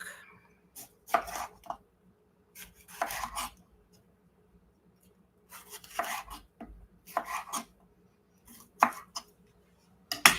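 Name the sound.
knife cutting a pepper for Cuban black bean soup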